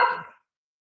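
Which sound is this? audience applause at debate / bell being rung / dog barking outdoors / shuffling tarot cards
dog barking outdoors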